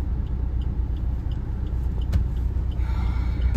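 Steady road traffic rumble on a busy service road as a Tata Altroz drives along, with a truck nearby, a brief sharp hiss or brake sound and faint squeals near the end; no speech over it.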